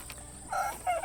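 Chickens clucking in mobile chicken tractors out on a farm field, a brief burst of close fowl calls lasting about a second with no talk.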